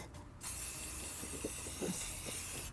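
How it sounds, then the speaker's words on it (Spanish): Spray paint hisses steadily from an aerosol can onto cactus pots, a close, continuous airy rush after a brief pause at the start, with faint soft taps underneath. "Porque esto avienta bastante spray para los lados."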